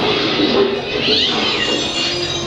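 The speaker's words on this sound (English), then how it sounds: "They have like audio of the cats in the alleyway." Recorded cats meowing in an alleyway, played as a themed store effect: loud, continuous, overlapping yowls and caterwauling with no pauses.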